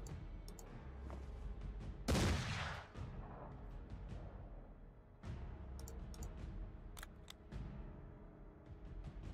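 A single sharp gunshot blast, a vital shot in Mordheim: City of the Damned, cracks out over a steady ambient backdrop, followed by fainter clicks and rattles.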